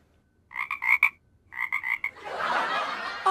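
A man mimics a frog with his voice, giving two bursts of rhythmic croaks, a short pause between them, before a rushing breathy noise takes over.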